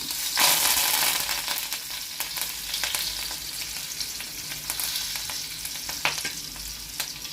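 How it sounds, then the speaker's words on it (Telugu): Green chillies, grated ginger and curry leaves fry in hot ghee, a loud, close sizzle with crackling pops and the scrape of stirring throughout. "ముందుగా పచ్చిమిర్చి చీలికలు వేస్తున్నాను. తర్వాత 1 స్పూను అల్లం తురుము, కరివేపాకు,"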